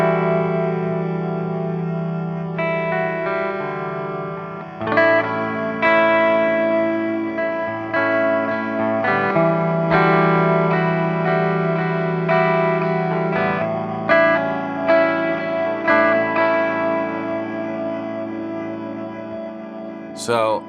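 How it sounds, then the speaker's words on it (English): An electric guitar plays sustained chords and notes through a Chase Bliss Mood MkII pedal, drenched in a washy, grainy lo-fi reverb that smears each strike into a long shimmering tail. "now let's go for a lower fi kind of reverb"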